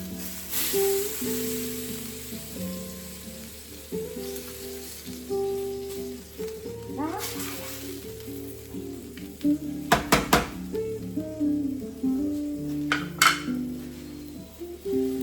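Seafood paella being stirred in a pan, with steady sizzling and frying under scattered scrapes and clinks of a utensil against the metal, plus a short burst of sharper knocks midway; no talking.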